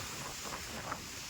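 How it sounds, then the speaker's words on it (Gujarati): Strong wind gusting outdoors on a dusty afternoon before rain, roaring steadily into the microphone as a broad, continuous rush for the whole moment, with no voices. "અવાજ આવે ને તમને કેટલો પવન આવે"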